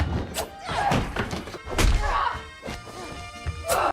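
A film fight scene in which two people battle with plates brings a dense run of whacks, thuds and crashing smashes, loud and close, repeating irregularly throughout.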